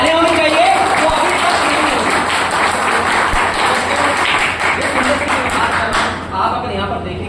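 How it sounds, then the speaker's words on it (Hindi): Loud audience applause at an indoor health and wealth awareness program, a dense, sustained roar of clapping from a large crowd that tapers slightly near the end. "जबरदस्त तालियां होनी चाहिए।"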